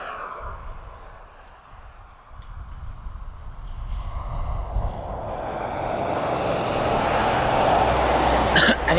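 Jet engine roar from a Boeing 777 with GE90 engines at an airport, building steadily from a distant rumble to a loud, broad whine and rush by the end.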